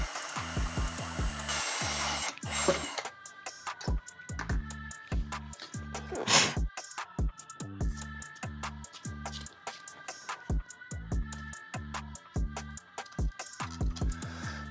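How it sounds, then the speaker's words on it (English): A power drill whirs steadily while drilling a pilot hole, its motor pitch wavering as it bites into material, with a few brief knocks along the way. "I'm just drilling a pilot first."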